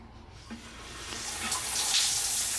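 Water gushes from a shower tap in a small bathroom, the hiss starting softly and building to a steady rush.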